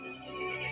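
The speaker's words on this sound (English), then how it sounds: "The horse grew angry and summoned the other monsters." A short horse whinny set in a dark spoken fairy tale, heard alone at moderate level with a steady tonal, strained quality and no speech.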